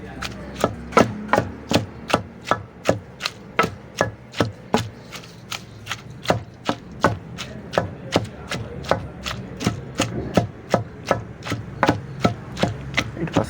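Boiled breadfruit is pounded into a pakoda mixture, about thirty dull, heavy thuds in a steady, even rhythm, close and fairly loud, with no talking.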